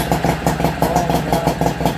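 A Nissan 5 hp two-stroke outboard motor runs steadily after starting, its loud, rapid pulsing engine note filling the clip with an even, chattering rhythm.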